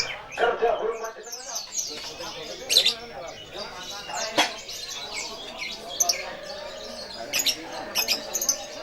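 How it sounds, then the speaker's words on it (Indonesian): Songbirds sing at a bird singing contest held by a community of bird keepers, with busy overlapping chirps, trills and whistles, some loud and close, while people talk faintly in the background. "Monggo kita nikmati saja kerja burung panjenengan."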